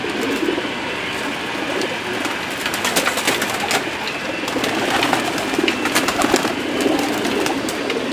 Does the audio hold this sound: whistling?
no